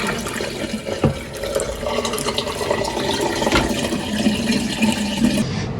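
Water runs and splashes steadily while fermenting popcorn soaking for pap is washed and its water changed, with a few sharper sloshes and knocks throughout.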